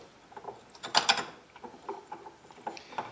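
Sturmey Archer S5 hub parts clatter as they drop into the assembly, with a cluster of metallic clinks and rattles early on, then scattered lighter taps and knocks, close and moderately loud with no talking.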